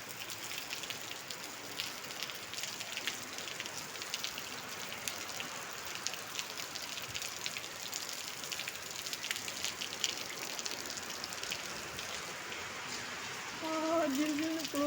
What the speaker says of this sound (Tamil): மழை இப்போ ஒரு 1/2 அன் ஹவராக விடாமல் மழை பெஞ்சிட்ருக்கு